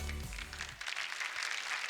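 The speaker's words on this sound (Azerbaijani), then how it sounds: "Alqışlarınız." Audience applause at a televised singing competition battle round swells into a steady, dense wash of clapping after a brief low musical tone fades out.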